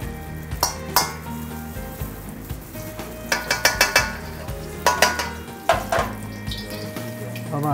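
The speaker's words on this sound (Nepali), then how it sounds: "अब हामी घिउ हाल्दैछौँ" Ghee sizzles loudly in a pan while Himali potatoes are cooked, with a continuous hiss broken by repeated sharp clinks and scrapes of stirring, close and busy with no speech.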